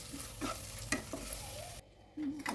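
Fresh, non-sour yogurt going into hot sizzling masala in a pan for dhaba-style dum aloo: a steady close sizzle with stirring scrapes, then a brief drop in sound before the frying picks up again.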